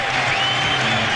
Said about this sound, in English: this crowd has just gone through the roof